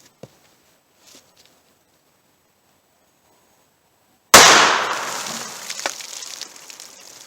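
A single loud report from a .38 Special revolver firing a 170 grain lead Keith semi-wadcutter into water jugs outdoors, a sharp blast after about four seconds of near silence, followed by a decaying echo and splashing debris.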